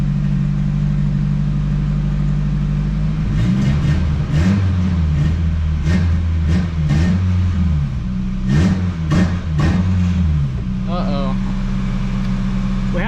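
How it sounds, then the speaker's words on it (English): A Nissan Hardbody truck with a check engine light, likely from something left unplugged, idles and then is revved repeatedly in short bursts. The engine climbs and falls several times before settling back to a steady idle. "We had to have left something unplugged because it doesn't let me rev up."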